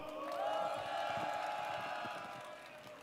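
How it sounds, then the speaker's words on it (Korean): A large crowd at an outdoor labor memorial rally cheers and shouts continuously, with scattered clapping mixed in, loud and sustained throughout. "여러분들의 힘찬 함성과 박수로 시작하겠습니다"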